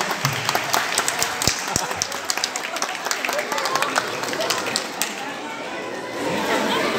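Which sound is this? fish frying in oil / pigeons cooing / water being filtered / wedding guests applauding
wedding guests applauding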